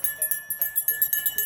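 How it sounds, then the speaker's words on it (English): A small brass bell rings in quick repeated strikes, bright metallic tones pulsing at an even rhythm, close and clear with no talk over it. "Did you find the brass bell?"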